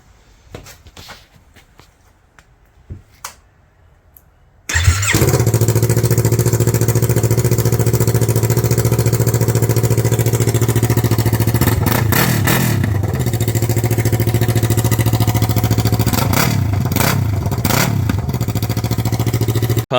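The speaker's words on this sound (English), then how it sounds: "We're just going to do it straight piped out of the Y pipe." Yamaha MT03 2019 engine running straight piped with no exhaust fitted, bursting on after quiet shuffling into a loud, steady raw drone with brief throttle blips around the middle and end.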